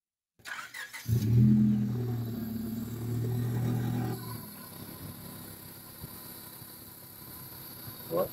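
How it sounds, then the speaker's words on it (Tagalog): A car engine cranks and catches, then settles into a loud, steady idle that swells with a rev before easing to a quieter running hum, close by, with faint voices in the background. "start the car"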